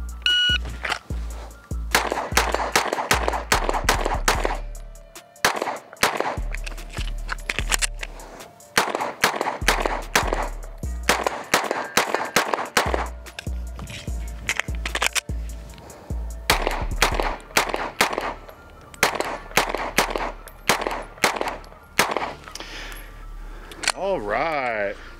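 Pistol gunfire during a shooting drill, loud repeated shots fired in rapid strings separated by short pauses, with brief talk between strings.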